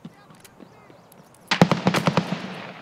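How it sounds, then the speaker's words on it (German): Gunfire in the shooter game Escape From Tarkov, a sudden rapid burst of about eight sharp shots that follows a quieter stretch of faint footsteps and movement, loud and close, with no voices. "Oh, Schüsse von vorne, von der Seite, wo wir kamen"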